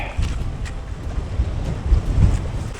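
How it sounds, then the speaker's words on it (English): Wind gusts outdoors beside a stream, rumbling and buffeting the microphone in a steady low roar with louder bursts. "Because that wind is up too, isn't it?"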